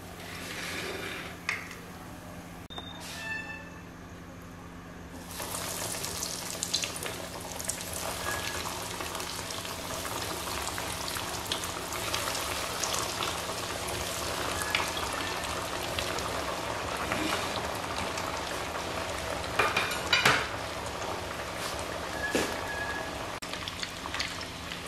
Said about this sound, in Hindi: अब बाकी के जो कबाब रह गए हैं हम उन्हें भी फ्राई कर लेते हैं।